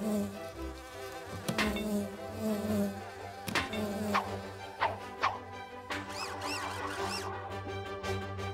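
Cartoon mechanical bees buzz steadily over a musical background, a sustained insect-like drone with a few sharp clicks and sound-effect chirps.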